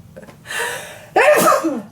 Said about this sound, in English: Oh, I have to sneeze, I think